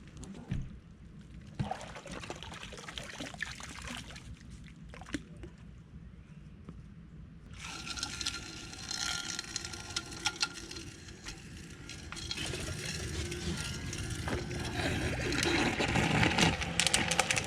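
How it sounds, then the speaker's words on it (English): Water being pumped out of a flooded hole dug for burying a propane tank, a continuous gushing, pouring rush that grows louder and denser over about seventeen seconds, close by with no talk. "Trying to pump some water out of here."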